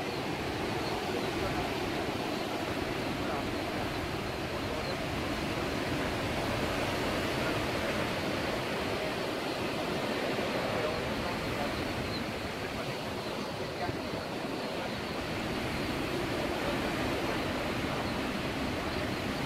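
Hurricane Irma's storm winds roar steadily and loudly for the whole stretch, a dense unbroken rush with no voices rising above it.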